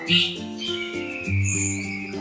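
A kolibri songbird kept as a vocal tutor at a bird school in Tanah Abang, Jakarta, gives sharp high chirps and thin whistled notes close by while someone talks over them.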